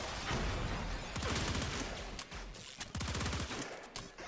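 Rapid bursts of secondary fire from the Pandero pistol in a video game crackle in dense automatic volleys, loud and close, with brief pauses between strings of shots.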